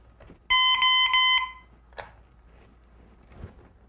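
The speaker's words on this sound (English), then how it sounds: "The magnetic alarms are triggered when the magnet is released from the alarm" A magnetic fall alarm goes off as its magnet is pulled free, giving a loud, shrill electronic beeping for about a second, with a few faint clicks and handling noises before and after.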